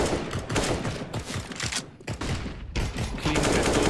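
Pistol fire from Desert Eagle and P250 handguns in the video game CS:GO, with dense, overlapping shots crackling back and forth in rapid bursts and brief gaps, loud and continuous throughout.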